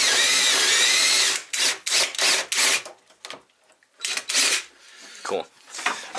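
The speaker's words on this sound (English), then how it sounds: "what we're doing is drilling holes for this part to get pushed in" A power drill whirs steadily for over a second while drilling holes in wood, then stops and starts in short bursts, with people talking in between.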